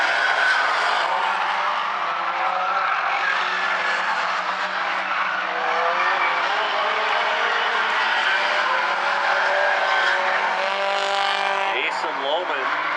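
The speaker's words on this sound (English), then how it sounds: "Charles Lemaire, your third place car, shoots right in front of the leaders there at the intersection" Stinger 8 race cars roar around the South Sound Speedway in an A-Main event, a loud continuous engine drone with overlapping passes and a brief tire skid near the end.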